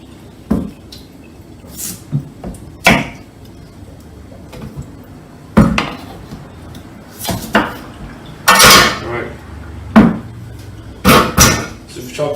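Knife chopping freshly washed potatoes in half on a cutting board for a shepherd's pie, giving sharp irregular clacks and thuds spaced across the clip, mixed with clinking of kitchen pans and utensils nearby.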